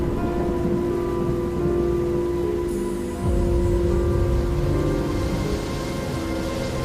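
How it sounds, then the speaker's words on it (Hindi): Heavy rain pours steadily alongside rolling thunder, a dense wet roar with a deeper rumble swelling about halfway through, loud and close with no voices. "इतनी तेज बारिश में आप मत जाइए"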